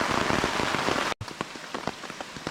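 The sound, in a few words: rain falling on a Pathfinder camping tarp at night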